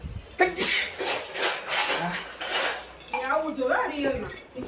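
Utensils clatter and clink against pots in several uneven bursts, with a voice murmuring briefly near the end.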